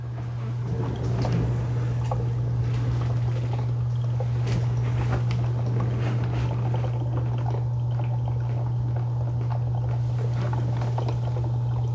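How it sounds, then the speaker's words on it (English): Walmart Keurig K-Duo Essentials single-serve coffee maker with carafe finishing its brew, a steady low pump hum with gurgling, dripping liquid over it, close and continuous. "I can hear the pump kind of turning off now"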